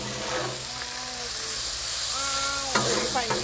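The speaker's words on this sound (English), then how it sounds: "we're going to take some pure sesame oil and we're going to add that in" Pure sesame oil sizzles with hibachi noodles on a hot Blackstone griddle, a steady hiss under a voice that speaks intermittently over the cooking.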